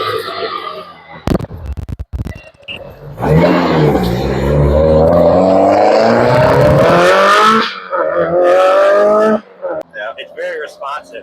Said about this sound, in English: you don't need to hit the gas very much at all to get going